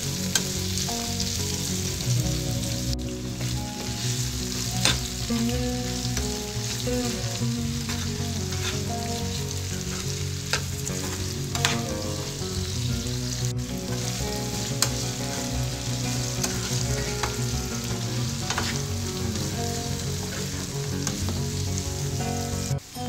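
Cucumber pieces cooking in a pan for a peanut curry give off a steady frying sizzle with faint stirring, holding at an even level throughout.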